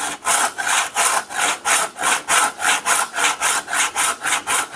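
A hand saw cuts a kerf through a wooden axe handle for a double bit cruiser axe, a brisk, even rasp of back-and-forth strokes, about three per second, close and steady with no voices.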